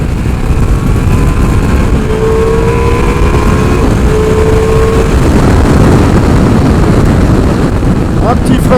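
A 2021 Ducati Multistrada V4S engine revs high on an open plateau road, loud and steady under heavy wind rush, with the pitch shifting through gears and a rider talking briefly.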